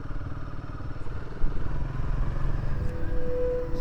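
Motorcycle engines idle and rumble close by outside a monastery on Majuli river island in Assam, a loud, steady, throbbing drone with small clatters, no talk.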